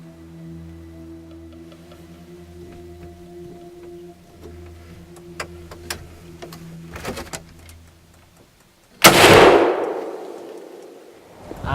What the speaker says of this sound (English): he makes an excellent shot